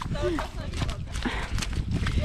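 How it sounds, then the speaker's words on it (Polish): A lame horse walks with a few soft hoof clip-clops under people talking nearby, heard fairly close but mixed into the conversation. "Czemu ten koń kuleje, no Tusia?"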